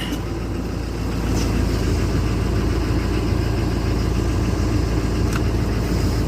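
A large bus engine idles steadily with a low, even rumble that holds without change, and no one speaks. The engine is burning oil.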